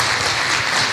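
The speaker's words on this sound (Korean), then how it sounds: "우리 박수로 환영하도록 하겠습니다" Congregation applause at a Korean Sunday church service, welcoming new members: a short, steady wash of many hands clapping, dense and even throughout with no voices.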